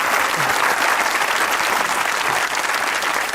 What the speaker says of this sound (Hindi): बस सही से तालियां बजाए भाई